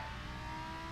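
A Lamborghini Gallardo Superleggera engine in the Assetto Corsa racing game holds a loud, sustained drone at steady revs for a moment, close and alone with no speech.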